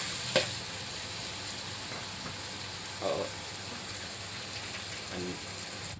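Beetles and a field rat fry in a pan of hot oil, a constant bright sizzle with a few louder spatters and stirring knocks scattered throughout.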